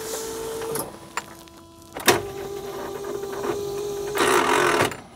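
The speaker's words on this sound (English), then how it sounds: "Starter motor can't overcome that bloody alternator again." Starter motor of a Smart car whirring and straining against a seized alternator, a near mechanical whine broken by clicks and clunks, ending with a louder surge before stopping; no talk.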